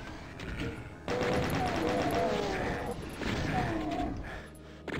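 Demons brawling among themselves in Doom: Sigil, a dense barrage of gunfire-like blasts, roars and impacts filling the space, with a short lull near the middle before the loud chaos resumes.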